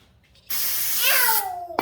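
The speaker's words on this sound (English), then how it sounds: "Just spray it on there and wipe it off" Brake cleaner sprays hard onto a car wheel of a 2000 VW Jetta, a sudden loud continuous hiss that runs steadily for over a second before cutting off with a short rattle.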